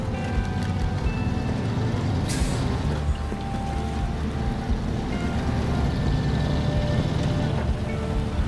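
Heavy truck in the video game SnowRunner crawling off-road, a loud continuous low engine rumble with grinding and splashing texture, steady throughout, with a brief hiss partway in and no talk.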